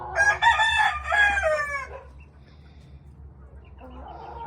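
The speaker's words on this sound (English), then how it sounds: "The big rooster over there, he's the babysitter for the babies." A large rooster crows loudly and close among a small flock of chickens in a backyard coop, a long harmonic call in the first two seconds followed by quieter clucking from nearby hens.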